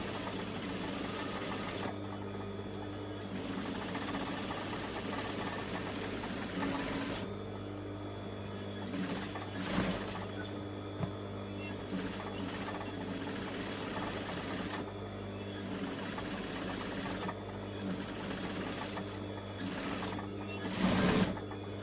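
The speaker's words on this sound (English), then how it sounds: "I'm going to actually put a double row of stitching on." Sewing machine stitching a double row for a twin-needle effect, a long steady mechanical whir with rapid needle rhythm and a few brief pauses and speed changes.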